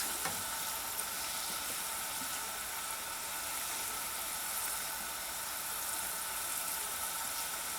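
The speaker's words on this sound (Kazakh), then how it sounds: "Орташа отта пісіріп жатырмыз." Dough pastries sizzle steadily in hot oil inside a kazan pot over medium heat, a dense, continuous frying hiss close up with no pauses.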